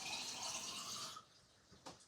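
A cup of water pours into a blender jar for a breakfast recipe, a steady splashing rush that runs loud for about a second before stopping, followed by a couple of faint clinks.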